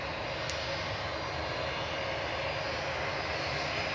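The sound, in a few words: Lufthansa aircraft departing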